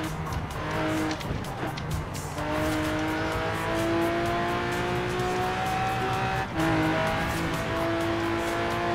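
A Lamborghini Aventador in Forza Horizon 4 runs hard on icy roads, its engine droning at a sustained high pitch with gear-change dips and some tire noise, loud and steady throughout.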